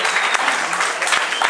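Dense applause from the crowd at a Bronx town hall meeting, a loud, even wash of many hands clapping throughout.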